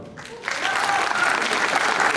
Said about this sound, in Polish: Drugie brawo.